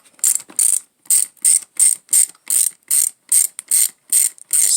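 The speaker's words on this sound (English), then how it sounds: "Then you want to grab your ratchet and take the 4 millimeter." Crisp ratchet wrench clicks as it turns a 4 mm socket, about a dozen evenly spaced bursts of rapid pawl ticking, close and loud.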